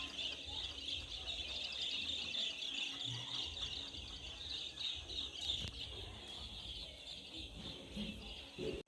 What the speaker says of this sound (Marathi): आणि पक्ष्यांचा थो चाललेला त्यांच्या घराच्या दिशेन.